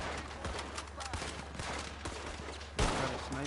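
Rapid gunfire exchange in Red Dead Redemption 2, including a sniper rifle, with dense bursts of game shots layered over background game noise and a louder blast near the end; voices speak in the background.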